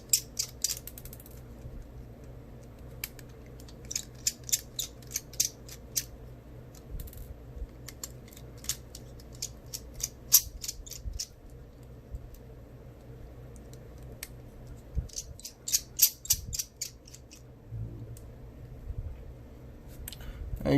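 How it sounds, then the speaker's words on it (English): A small Phillips screwdriver ticks and ratchets faintly, close up, while backing screws out of an LG VX8360 phone, with scattered clicks and light handling noises in irregular bursts. "It just takes a normal Phillips screwdriver, a small normal Phillips screwdriver."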